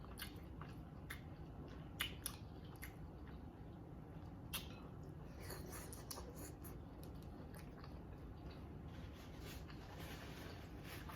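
Quiet close-up chewing of sausage, soft wet mouth sounds and squishy bites repeating over a low background hum, with a few sharper crunchy clicks and no talk.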